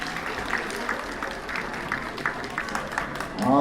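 An audience at a school spelling bee claps steadily, a dense patter of hands filling the room, with a voice rising over the applause near the end.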